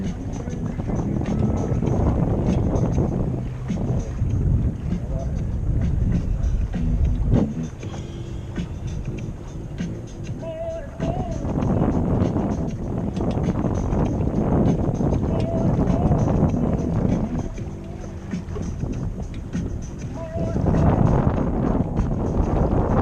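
Wind roaring across the microphone aboard a small Holder 12 sailboat in Oceanside Harbor, a constant heavy rumbling buffet throughout, with voices talking intermittently underneath.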